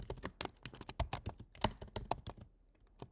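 Fast typing on a computer keyboard, heard close up as quick bursts of sharp key clicks that briefly pause, then resume.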